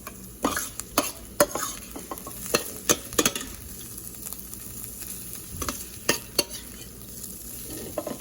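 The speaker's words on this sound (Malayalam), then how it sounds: "ഈ സവാള ഇടയ്ക്കിടയ്ക്ക് ഇളക്കി കൊടുത്ത് ഈ സവാള ഒന്ന് വഴച്ചെടുക്കാം." Sliced onions frying in a pan for a mung dal and spinach curry, stirred now and then, giving a low steady sizzle punctuated by sharp clicks and scrapes of a spoon against the pan, with no speech.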